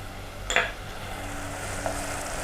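Minced mutton and onion paste sauté with garlic paste in a pan, giving a low, steady sizzle with a brief clink of a utensil against the pan early on and a faint tap later.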